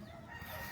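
A rooster crowing among chickens in a rural provincial yard, a brief faint call blended with soft background noise, no talking.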